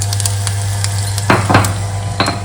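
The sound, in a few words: tempering mustard seeds and spices sizzling in oil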